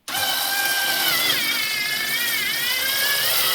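A power drill bores a 4.2 millimetre hole into a metal plate on wood. The motor starts abruptly and keeps up a loud, steady whine, with the pitch wavering as it bites, and no one talks.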